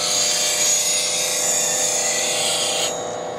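A woodturning skew chisel is ground on a bench grinder to an Ellsworth grind, giving a steady, bright, close-up hiss that holds unbroken and then eases off slightly near the end.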